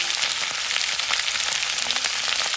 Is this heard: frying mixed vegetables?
yes